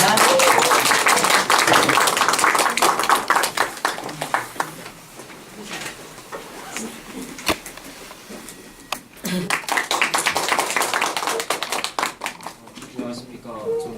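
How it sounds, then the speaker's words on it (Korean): An audience claps in a welcome for a high school student speaker at a talk on Gimpo Airport's golf course and wetland ecology. The applause comes in dense bursts at the start and again later, with talk heard between them. "우리 큰 박수로 좀 맞아주시기 바랍니다"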